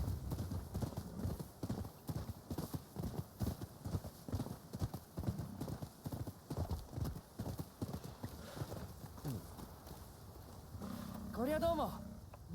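Rhythmic clip-clop of horse hooves trotting steadily, close and clear, ending with a short whinny, in the video game Rise of the Ronin.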